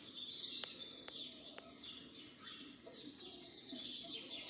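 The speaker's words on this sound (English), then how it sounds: "So that's the nature sounds." Recorded bird nature track from a Sunrinse alarm clock: repeated chirps and tweets with a few coos, steady and fairly close, with no voices over it.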